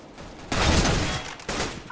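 P90 submachine gun fire in the shooter game CS:GO, a loud close burst of rapid shots followed by a second short burst after a brief pause.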